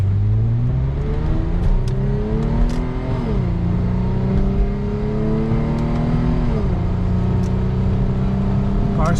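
A Lexus IS250 engine drones steadily while cruising, loud and close from inside the cabin, with its pitch rising and dipping through gear changes and faint background noise on top.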